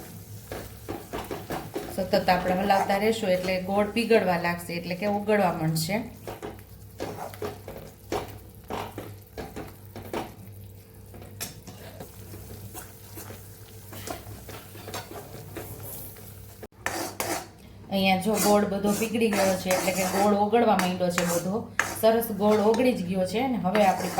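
Spoon scraping and clinking in a pan of jaggery and ghee syrup for sesame chikki, steady stirring running throughout beneath a voice speaking over it.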